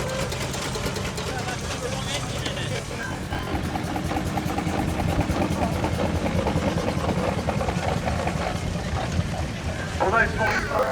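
Miniature steam engines modelled on Burrell and Fowler traction engines, road rollers and showground engines run at a steam and country fair, a steady low chugging hum under continuous nearby talk.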